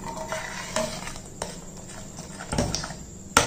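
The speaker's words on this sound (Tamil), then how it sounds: "இப்போ இதை எல்லாத்தையும் நல்லா மிக்ஸ் பண்ணிக்கிடுவோம்." Spices and chopped coriander leaves being mixed in a bowl for a weight-loss kanji, heard as close, scattered clinks and scrapes of a spoon against the bowl with soft stirring, ending in a sharper clink.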